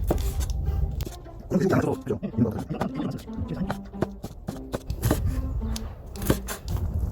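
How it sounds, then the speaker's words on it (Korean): Knife chopping chili peppers on a cutting board, rotating them while slicing into large pieces for Hunan-style stir-fried pork; a run of close, sharp taps under ongoing talk. "고추를 쓸때 이렇게 돌려주면서 썰, 썰어줍니다."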